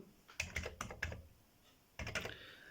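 Keys clack on an Atari computer keyboard while a BASIC program is typed: a quick burst of about six close, crisp keystrokes, a short pause, then two or three more, all fairly quiet and without talk.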